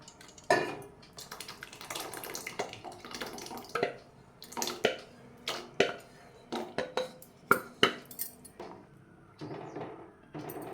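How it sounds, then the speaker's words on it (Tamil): Water splashing and spoon clattering in a pot of drumstick curry with mashed lentils and tomato, a string of sharp metallic stirring knocks and sloshes, fairly quiet and close. "ஒரு கிளாஸ் தண்ணி விட்டுடலாம்."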